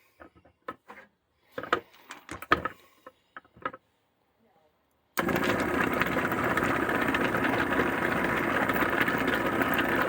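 A rock tumbler is closed up and switched back on: a few short knocks and clunks from handling the lid, then a steady, loud, continuous rumbling churn of the spinning barrel that carries on unbroken to the end.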